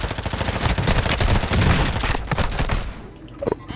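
Gunfire in Call of Duty Warzone Resurgence on Modern Warfare 2, loud rapid bursts of shots firing close and continuously for about three seconds before tapering into a few scattered cracks.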